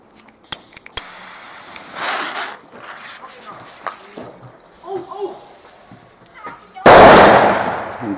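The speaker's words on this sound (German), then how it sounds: "für noch relativ, ja, nicht so alte Kanonenschläge aus deutscher Produktion sind die echt hammerhart" German-made Nico cylindrical Kanonenschlag firecrackers are lit outdoors, with a few small sharp pops and fuse crackling early on, then one loud, booming blast near the end that fades out. People talk quietly in between.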